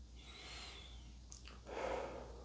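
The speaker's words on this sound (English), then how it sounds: "So take a deep breath to start," A single deep breath drawn in, soft and close, with a faint airy hiss rising at the end over quiet room tone.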